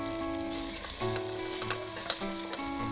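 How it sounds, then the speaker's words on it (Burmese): Pork with garlic frying in a pot for kimchi stew, a loud steady sizzle close up with a few stirring scrapes, while a tonal hum runs underneath and nobody speaks. "ကြော်ရင်းနဲ့ဝက်သားတွေကစီရထွက်လာပြီဆိုလို့ရှိရင်တော့ကြက်သွန်ပြူလေးထည့်ပြီးစီတက်မယ်"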